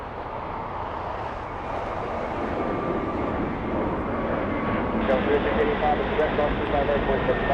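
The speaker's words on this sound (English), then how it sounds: "We have Delta Airlines 867 flying to Orlando, Florida." A Delta Airlines airliner, flight 867, takes off from the south side of LAX, its broad jet roar building steadily and growing louder toward the end while a voice speaks over it.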